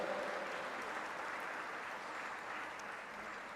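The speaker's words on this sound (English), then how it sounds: "Please give a huge round of applause." An audience at an interfaith lecture event gives a round of applause, a steady, moderately quiet wash of clapping that holds evenly for a few seconds.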